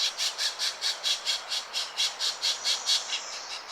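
Pileated woodpecker nestling begging in a spring forest nest, a steady series of about fifteen rapid, rhythmic nasal squawks, evenly spaced and fairly loud, with no other voices.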